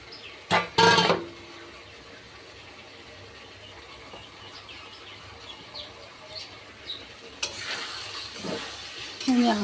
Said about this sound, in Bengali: আমি আস্তে আস্তে পালং শাকটা মশলার সঙ্গে ভালো করে ভেজে নেব।